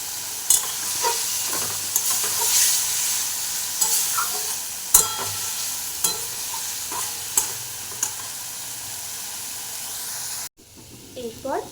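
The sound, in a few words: tomatoes frying in a pan for chicken stew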